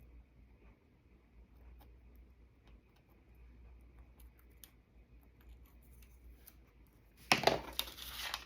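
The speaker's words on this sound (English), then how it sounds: "And we're going to cut this out." Material is cut out on a cutting board while a launcher (Byrna, Salt S2, Umarex) is customized; after a long quiet stretch, a short, close burst of snipping and scraping comes right at the end.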